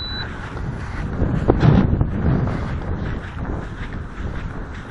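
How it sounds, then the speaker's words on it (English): Strong outdoor wind buffets a microphone at a model airplane flying field, a steady low roaring rumble with gusty swells and no talk. "That's a lot of wind."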